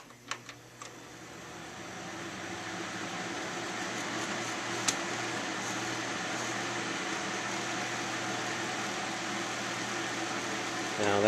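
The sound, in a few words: homemade hop oast dehydrator fan running on low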